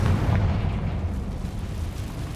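Booming explosion spells such as Bombarda and Confringo going off in the Hogwarts Legacy video game, a heavy low rumble with a burst near the start decaying into a sustained roar.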